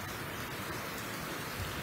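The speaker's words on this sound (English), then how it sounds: "this rain's actually fairly heavy" Heavy rain pours down steadily as a cool change pushes in after a humid day, a dense, even hiss of drops with no voices over it.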